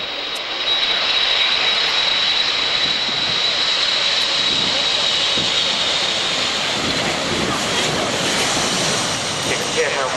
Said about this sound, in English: You can hear how quiet those engines are when you compare them to other jet engines